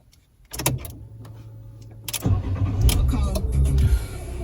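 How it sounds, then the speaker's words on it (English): A Fiat 500 engine starts close by: a brief click and whir, then the cranking catches at about two seconds into a rough idle that builds and revs slightly, with mechanical clatter on top. "Turn the key off, wait 10 seconds and start the engine."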